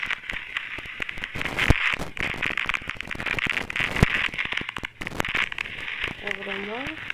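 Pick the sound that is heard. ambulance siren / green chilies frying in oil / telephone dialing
green chilies frying in oil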